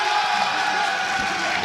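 A crowd at a Dragon Ball FighterZ fighting-game tournament gives a steady, diffuse roar of cheering throughout this short moment, fairly loud and spread across the hall.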